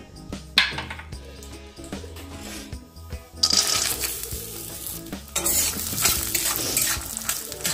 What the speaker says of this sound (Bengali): এবার ভেজে নেব বাদামগুলো।